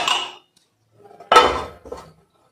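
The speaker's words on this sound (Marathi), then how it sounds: "पॅन ठेवून घ्यायचा आहे." A metal cooking pan set down on a home kitchen stovetop, making a brief clatter, then a louder clunk with a short scrape, close by and with no talking.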